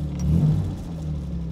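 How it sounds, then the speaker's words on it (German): A 1956 Jaguar XK 140 Drop Head Coupé's fully restored 3.5-litre, 210 hp six-cylinder engine gives a short, steady, deep rev close by, with a low rumbling tone that swells briefly and then holds. "so hören sich 210 PS an von 6 Zylindern"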